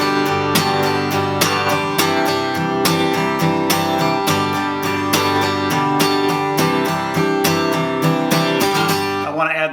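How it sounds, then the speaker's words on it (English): Acoustic guitar strummed across all strings with accented beats, a steady rhythmic pattern of bright, full chords played close and loud without pause, each stroke cleanly articulated. "I'm strumming all the strings."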